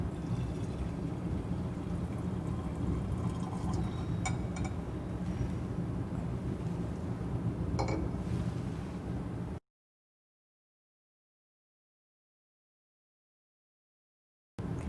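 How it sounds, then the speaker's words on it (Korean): Liquid poured steadily down the inner wall of a glass beaker in a chemistry lab, a continuous soft trickling wash with a faint clink partway through, then abrupt silence. "다음으로는 벽면으로 따라 부어줍니다."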